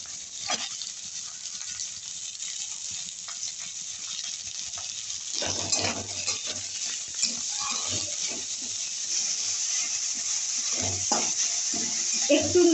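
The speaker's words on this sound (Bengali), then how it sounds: "রসুন কুচিটা দিয়ে দিচ্ছি আদা কুচিটা দিয়ে দিচ্ছি পেঁয়াজ কুচিটা দিয়ে দিচ্ছি" Chopped garlic, ginger and onion hit hot oil in a pan, and the sizzle swells louder partway through, then crackles steadily as the pieces are stirred.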